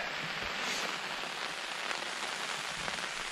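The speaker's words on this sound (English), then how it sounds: "Safe to say, the rain is in." Steady rain patters on wild camping gear in bad UK weather, a constant close hiss of drops hitting the surface with no gaps and no speech.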